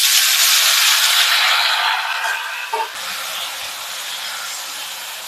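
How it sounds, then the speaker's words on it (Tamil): Tomatoes hit hot sesame oil for tomato thokku, a loud, steady broadband sizzle up close that fades slightly and settles into a softer hiss. "தக்காளி வதக்கிடலாம்."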